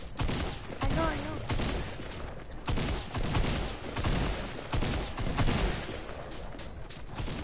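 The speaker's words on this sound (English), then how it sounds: "gray shotguns actually do some decent amount of damage" Repeated gunfire in a Fortnite-style shooter, including shotgun blasts from a gray (common) shotgun, bursts of shots sounding close and loud across the stretch with faint voices and game noise underneath.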